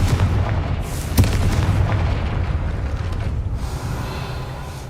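Confringo spell explosions in the Hogwarts Legacy video game on PC: a heavy booming blast with a sharp crack just past the first second, followed by rumbling low-end debris that gradually fades.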